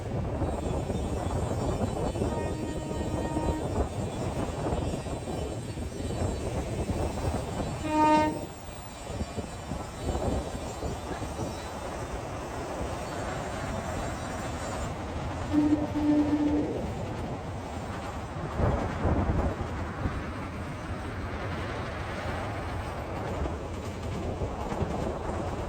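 A train crosses the old Pamban Bridge, its continuous rumble and clatter steady throughout, with a horn sounding briefly partway through.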